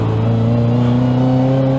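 A car fitted with a Sprintex supercharger, a 2022-or-later model running 91 octane at about 300 horsepower, drones steadily and loudly up close as it drives, with an even engine hum and no voices.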